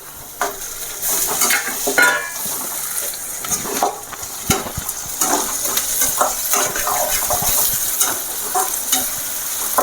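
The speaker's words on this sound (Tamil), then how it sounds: "வெங்காயம் வதங்கிட்டுருக்கு இப்போ நம்ம தக்காளியை போட்டுக்கலாம்" Onions sauté in a pan with steady sizzling and the scrape of stirring, joined by the softer rustle and clatter of chopped tomatoes going in, all loud and close with no speech.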